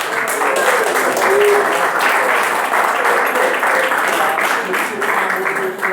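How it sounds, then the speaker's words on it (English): Steady applause from a crowd fills the whole stretch, a dense wash of clapping at even loudness. "So I want to give a big round of applause."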